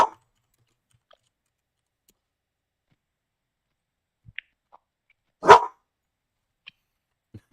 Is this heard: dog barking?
yes